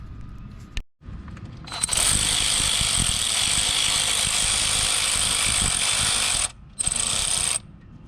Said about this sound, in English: Now I can go ahead and remove this 10mm bolt here and this little 10mm bolt there